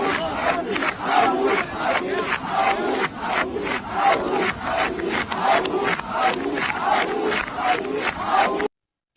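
A crowd at a Bangladeshi political rally chants slogans in a loud, regular call-and-response rhythm, with sharp repeated vocal bursts throughout before an abrupt cutoff.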